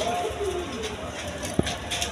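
Silver pigeons, a pair with two chicks, coo softly beneath someone talking nearby, with a single sharp tap partway through.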